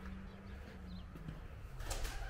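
A pigeon coos faintly inside an abandoned château, its soft calls set against a hollow room tone, with a louder rustle or flutter near the end.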